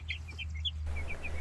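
Young meat-bird chicks peep in a mobile tractor on grass, a few short high chirps over a steady low hum, faint and close.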